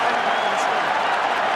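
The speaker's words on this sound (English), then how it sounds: "listen to this cheer for them." A rugby stadium crowd roars for Wales during a test match against South Africa, a steady broad wash of cheering from thousands of fans under a commentator's voice.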